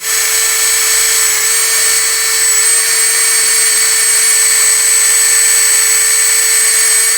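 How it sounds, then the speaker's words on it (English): A wire wheel brush spun by a drill cleans the wheel bearing seat of a Dodge Grand Caravan rear hub, a loud, steady high-pitched whine running continuously, close up and without talk. "I'm actually going to use a wire wheel on a drill for that"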